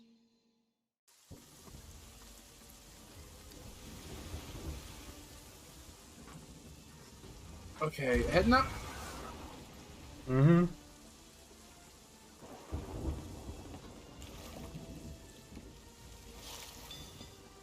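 Storm rain hisses steadily through a Sea of Thieves match, with two loud thunder crashes around the middle and a third rumble later, while players talk briefly over it.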